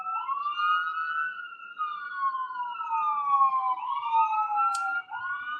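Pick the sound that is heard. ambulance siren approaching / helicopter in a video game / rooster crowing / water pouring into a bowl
ambulance siren approaching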